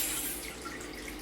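A bottle of Clearly Canadian carbonated flavored water being opened carefully: a soft, close fizzing hiss that starts strongest and slowly eases, with no talking over it.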